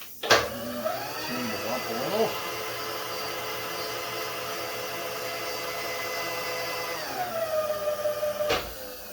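A milling machine spindle cutting with a 250 cutter while machining a plug, giving a steady loud whine with layered harmonic tones that rises at the start and winds down near the end, with brief clunks at both ends.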